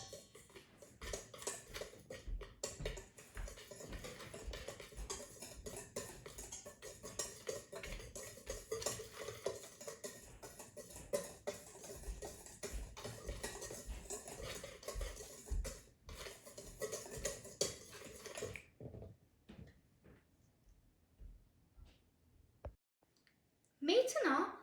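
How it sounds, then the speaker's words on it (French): Dry pancake batter ingredients, including sugar and salt, being mixed in a bowl, with clinking utensil scrapes and stirring clatter running continuously over background talk, then falling quiet near the end. "Maintenant, mélangez les ingrédients secs."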